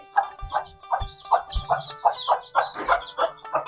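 A chicken clucks over and over in a steady rhythm, close by and fairly loud, with no one talking.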